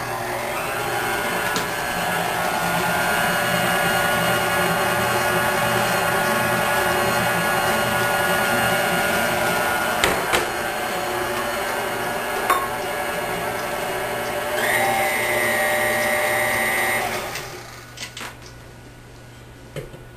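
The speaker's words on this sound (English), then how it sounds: "now we're going to start the mixer up and get those ingredients all mixed together" Electric mixer whirring steadily through red velvet cupcake batter, a loud continuous motor drone with faint clinks against the bowl, running for about seventeen seconds before cutting off into quiet.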